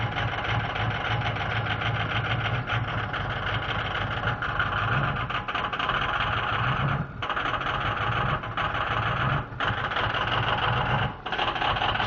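High-mileage 6.0L engine at 310,000 km idling after a cold start, a loud, steady, rough clatter with a few brief dips and no talk.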